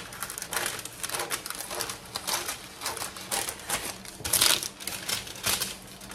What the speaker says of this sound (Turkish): Ben şöyle yağlı kağıdımı kesiyorum.